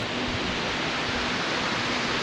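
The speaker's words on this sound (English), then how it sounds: "That's a pretty good waterfall." A waterfall at Devils Postpile National Monument, a steady broadband roar of falling water that is constant and full, with no voices.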